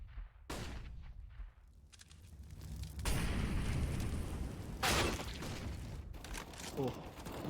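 Gunfire in Counter-Strike during an LDLC OL vs Vodafone Giants esports match, bursts of shots and booming reports under an excited caster's voice.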